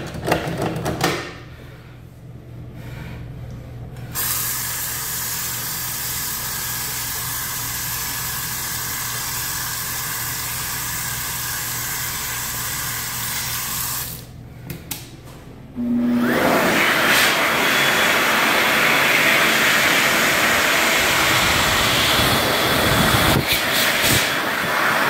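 An Excel Dryer Xlerator hand dryer with a 1.1 nozzle, made in 2020, in a Mobil/Bolla Market in Garden City, NY, starts with a roar, runs steadily, cuts out briefly, then returns with a louder, brighter rushing blast of air.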